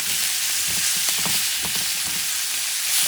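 Meat sears in a hot pan over an open fire, a steady loud sizzle and hiss throughout with a few soft stirring or shifting sounds in the middle.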